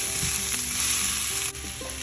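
Lamb fries with turmeric, red chili and coriander powder, a loud, steady sizzle with scraping stirs of a spoon through the pan.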